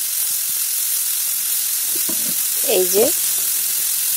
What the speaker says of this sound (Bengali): এবার আমি কাটা টমেটোটা দিয়ে দিলাম। দিয়ে এবার একসাথে মিশিয়ে ভালো করে ভাজবো।